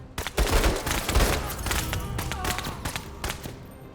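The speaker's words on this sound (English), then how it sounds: "we can just shoot at these guys now" Gunfire from the video game Menace crackles in dense, overlapping bursts of sharp shots, a loud ragged fusillade running steadily throughout with faint talking underneath.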